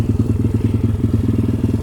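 A 140cc pit bike's small single-cylinder engine running hot while riding, with a loud, close, rapid pulsing putter and steady throbbing beats and no talk over it.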